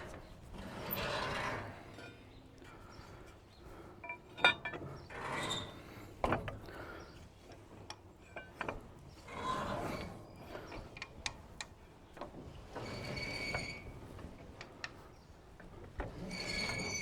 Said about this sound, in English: on this backstroke, that should bring the needles up